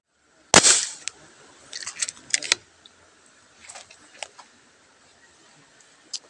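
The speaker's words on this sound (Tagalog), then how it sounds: "Unang putok, hindi tinamaan." A sharp, loud report from a gun fired while fishing for tilapia, followed by scattered clatter and lighter clicks fading over several seconds outdoors.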